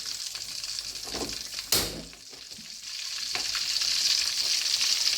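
Fish pieces frying in oil in a karahi over a low flame, a steady close sizzle with a brief louder crackle and stir, then the frying hiss swells again.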